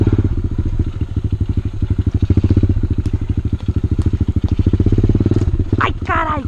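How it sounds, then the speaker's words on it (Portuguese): A mini motorbike chugs close by with a loud, rapid, even engine pulse throughout, while a voice speaks briefly near the end. "Ouvi o barulho da mini moto."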